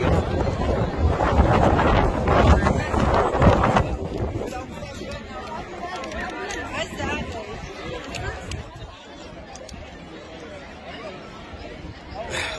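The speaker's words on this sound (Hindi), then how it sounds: "तो वाकई इधर बहुत ठंडी हवा है और बहुत तेज हवा है।" Strong cold wind roars steadily across a microphone on top of a fort, a dense continuous buffeting that eases slightly later, with a voice speaking faintly underneath.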